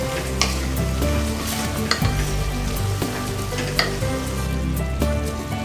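Vegetables stir-fried over a high flame with soy sauce and red chili sauce for Chinese pulao, giving a loud, continuous sizzle and frying hiss with periodic scraping stir strokes and clinks, close up and without talk.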